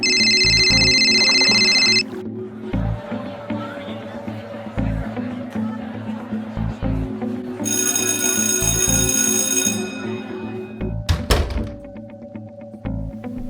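Phone ringing in the Sims FreePlay video game, a bright electronic trill that sounds at the start and again midway, over looping game music with soft thunks and simlish-style chatter.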